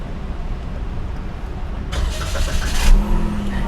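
A Daihatsu Rocky car engine starting: a brief cranking whir over a low idle, then the engine catching and settling into a steady rumble, close by and fairly loud.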